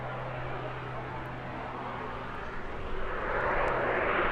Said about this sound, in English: I think probably his last example of hover flying in a biplane